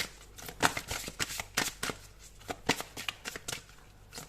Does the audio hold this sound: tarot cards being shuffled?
yes